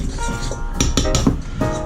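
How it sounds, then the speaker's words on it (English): Spoon stirring chicken and dumplings ingredients in a crockpot: a few sharp clinks and scrapes against the pot at irregular intervals over a steady low background hum. "we're going to go ahead and stir that all together"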